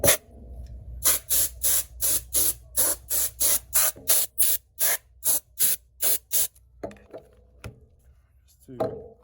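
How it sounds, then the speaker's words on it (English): Compressed-air duster spraying across an iPad Air 1st generation A1475 during screen replacement, cleaning the adhesive: about fourteen short, loud hissing bursts in steady rhythm, then a few scattered puffs, with no talk. "I'll get one of these A duster, kind of spray around"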